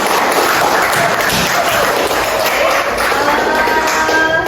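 A group claps steadily, a dense patter of applause that fills the whole moment without pause.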